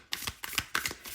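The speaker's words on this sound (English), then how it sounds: "The overhand shuffle is very nice." Tarot cards being overhand shuffled by hand, a close, crisp rhythm of four or five quick riffling bursts separated by brief pauses, with no talking.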